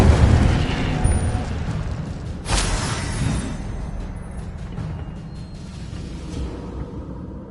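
A fiery Incendio spell blast in the Hogwarts Legacy video game: a loud whooshing burst that peaks and then fades into a rumbling tail, with a single deep impact partway through.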